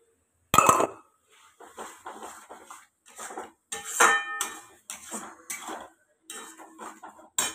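Tomato paste goes into a cooking pot, with a sharp metal clank followed by a series of spoon scrapes, taps and clinks against the pot, close and fairly quiet, separated by short pauses.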